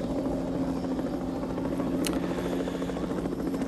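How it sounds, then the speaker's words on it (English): A steady, throbbing helicopter rotor drone hovers overhead in a film scene, loud and constant throughout, with a brief sharp click partway through. "The helicopters are always hovering over."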